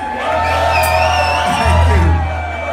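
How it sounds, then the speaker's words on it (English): A live show crowd cheers and whoops as a band is introduced on stage, loud shouts and yells over a low humming background, with little distinct clapping. "Please give him a nice big round of applause."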